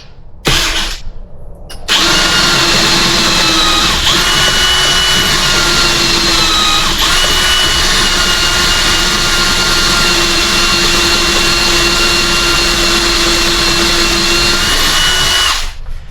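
A power drill whines loudly and steadily for about fourteen seconds after a brief start, drilling into metal, close up, then stops.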